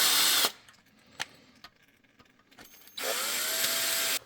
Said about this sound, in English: Now we can finish tapping these holes.